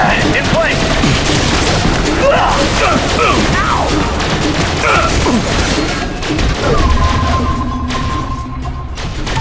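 A deployed turret in The Bureau: XCOM Declassified fires rapid, dense bursts throughout, loud and continuous amid a chaotic battle, with voices shouting under the gunfire.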